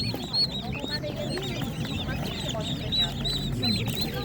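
Ducks, turkeys and other poultry crowd a Ukrainian animal market, quacking and clucking in a dense near chorus while people talk over them.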